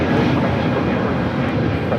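A Frontier airliner takes off at LAX with a loud, broad jet-engine roar that stays steady and dense throughout, with no talk over it.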